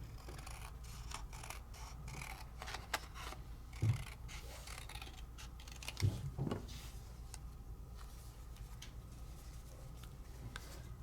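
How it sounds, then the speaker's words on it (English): Scissors cutting paper at a crafting table make faint, quiet snips and rustles scattered through a hushed room, with a few slightly louder cuts standing out. "I could just be cutting paper and cutting paper and cutting paper until my little heart is happy"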